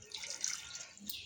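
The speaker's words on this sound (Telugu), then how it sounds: "ఎంత కావాలో అంత వాటర్ పోసుకొని ఇలా మంచిగా ఒకసారి కలుపుకొని" Water left over from grinding masala is poured into a simmering paneer curry gravy with no onion or garlic, giving a soft, steady trickling splash that stays faint and close throughout.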